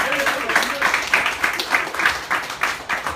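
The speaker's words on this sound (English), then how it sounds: "How about a nice round of applause for their creativity?" Audience at a hypnosis show giving a round of applause in rhythmic, pulsing waves of clapping, moderately loud and steady for a few seconds, with a murmur of voices mixed in.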